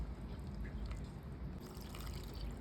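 Water poured into 500 grams of glutinous rice flour for kuih sopang dough, a soft continuous trickle and splash heard close up, steady throughout with no talking.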